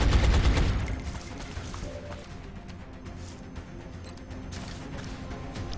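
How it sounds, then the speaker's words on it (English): A sharp, loud blast fires from a heavy cannon in the XCOM: Long War video game, then decays into a quieter tail with faint rattling afterward, no talking. "Our heavy cannon has a 50-50 chance of making your life hell."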